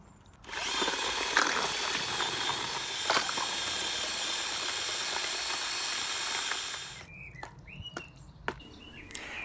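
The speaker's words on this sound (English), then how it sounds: "I will mix it with the paint mixing drill bit" A power drill with a paint mixing bit whirs steadily for about six seconds as it churns thick clay, then cuts off, leaving faint scrapes and squeaks.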